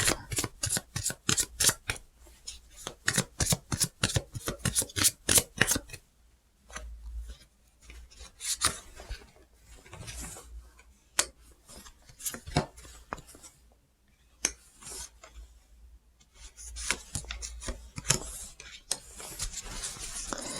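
Tarot cards are shuffled by hand to draw an extra card, making quick rasping riffles in close, quiet bursts that stop and start.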